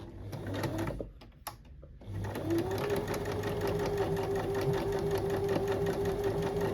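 A sewing machine stitches the top seam of a Chloe-style tote bag, starting after a brief pause with a steady, close, continuous whirring run of needle strokes.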